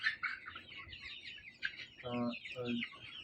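Sahyadri breed chickens on a poultry farm of around five thousand birds cluck and chirp in a busy flock, with two louder nearby clucking bursts near the end over the steady chatter.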